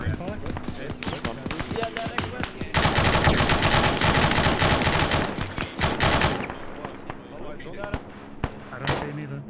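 Heavy gunfire in the military shooter game ArmA, dense bursts of automatic fire and shots crackling loudly through most of the stretch, thinning to scattered reports toward the end, with a voice talking over it.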